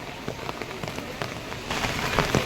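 Heavy rain pours steadily in Haridwar, a dense, even hiss with a rougher patter of drops on nearby surfaces, growing a little louder toward the end, with no voices.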